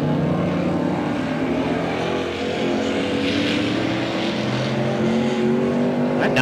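Race cars roaring around a figure-8 track in a feature race, a dense, continuous engine drone with shifting pitch as several cars pass close by, steady and loud throughout.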